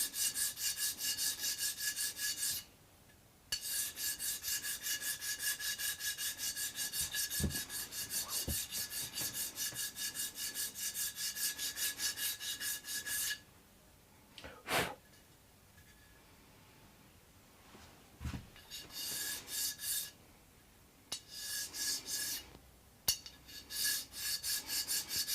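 A guitar nut is filed by hand on a baritone guitar build, with steady close rasping strokes in long runs broken by brief pauses and a few knocks.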